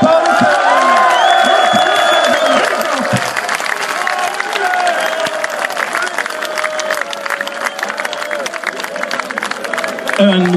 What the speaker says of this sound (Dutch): Een meer dan verdiend applaus voor Lawrence Paulus.